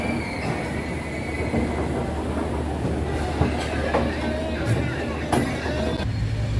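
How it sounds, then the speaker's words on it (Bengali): The 12343 Darjeeling Mail from Sealdah toward Bardhaman runs at high speed, a continuous loud rumble of wheels on rail with occasional squeals and clicks, steady throughout. "দার্জিলিং মেল কিন্তু শিয়ালদা থেকে বর্ধমান যাওয়ার পথেই খুব স্পিডে কিন্তু ছুটছে।"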